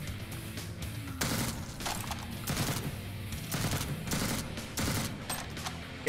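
Shotgun fire in the roguelike shooter Jupiter Hell, with loud, close blasts recurring roughly every second, each a sharp crashing burst over a busy, rumbling game soundscape with no talking.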